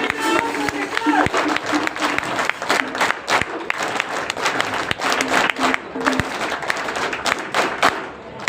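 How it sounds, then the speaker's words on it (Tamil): An audience applauds NCC students at a folk dance event, steady dense clapping from many hands throughout, with a voice speaking over it. "எல்லாருக்கும் ஒன்போல கைத்தட்டி NCC மாணவர்களுக்கு நாங்கள் ஒரு கைத்தட்டி கொள்கிறோம்."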